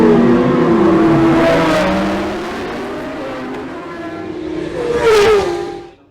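Road racing motorcycles at Oliver's Mount roar past in a support race, loud engine whine rising and falling as bikes approach and recede, with a second close pass near the end before the sound fades.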